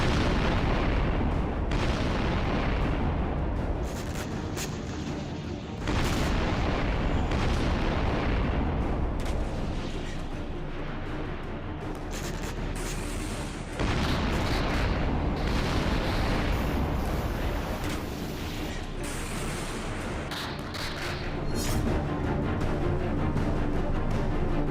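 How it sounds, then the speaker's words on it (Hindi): Gunfire and explosions in war footage: dense, loud rattling bursts and heavy booms pile on one another almost continuously, with brief lulls between sustained volleys. "गोलियों की तड़तड़ाहट,"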